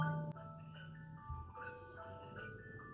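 A phone alarm tone plays a short electronic melody of bright beeping notes, faint and close, with a brief low buzz at the start.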